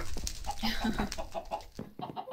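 A Minecraft chicken clucks in a short run of soft, choppy bird calls, close and fairly loud over faint background noise, with no voices.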